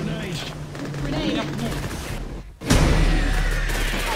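A grenade blast in the video game Orion: Prelude, one sudden loud burst after a brief drop in the game noise, with gunfire-like clatter and a steady roar continuing underneath.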